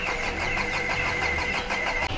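A Volkswagen Polo engine catches after a push start on a mountain road and runs on in a steady, close mid-pitched idle with a faint whine, ending in a brief dip.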